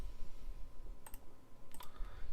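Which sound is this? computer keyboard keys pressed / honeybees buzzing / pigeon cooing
computer keyboard keys pressed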